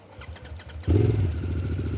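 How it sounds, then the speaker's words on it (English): A Harley-Davidson motorcycle engine cranks a few times, then catches and fires up into a loud, steady idle, close by with no voices. "Cranked up bike."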